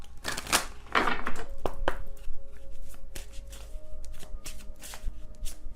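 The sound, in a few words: shuffling Secret Moon Oracle card deck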